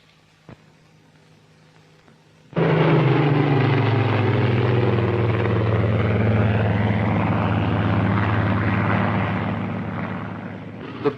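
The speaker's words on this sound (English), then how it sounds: "The pupils now have an opportunity of slow flying their aircraft under actual carrier deck landing conditions." A Vought F4U Corsair propeller fighter flies near a Royal Navy carrier in 1946. After a few quiet seconds its piston engine roar cuts in abruptly and holds loud and steady, with slight shifts in pitch before it thins out.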